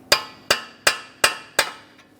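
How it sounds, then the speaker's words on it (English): A hammer drives a punch into the center of a front axle on a 2015-2019 Subaru Outback to free it from the wheel bearing: five sharp, close metallic strikes at an even, steady pace, with no voices. "We'll use a hammer and punch directly in the center of the axle to break it free from our wheel bearing"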